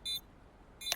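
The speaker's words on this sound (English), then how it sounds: "Bomb has been planted." A planted bomb in a video game beeps twice, with short, sharp electronic tones about a second apart against quiet background.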